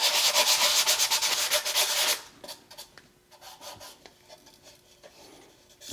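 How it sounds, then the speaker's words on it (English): A 3D-printed slip casting mold is rubbed by hand with 240 grit sandpaper, making a loud, steady rasping scrub for about two seconds, then quieter intermittent light scuffing and handling noises. "I'm going to do a little bit of sanding here to take off any high spots."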